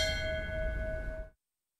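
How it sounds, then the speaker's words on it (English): A bell rings in Tucson with a sustained metallic tone and clear overtones, heard faintly and alone, then cut off abruptly. "Today, bells ringing in Tucson"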